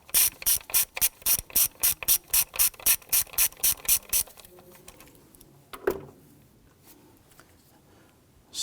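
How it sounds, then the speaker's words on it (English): Ratchet fitted with a T30 Torx bit loosening a screw on a 2007-2017 Jeep Patriot 2.4L four-cylinder during ignition coil boot work: a fast, steady run of close clicks for about four seconds, then quiet handling noises. "Now we're going to use a T30 Torx bit to go ahead,"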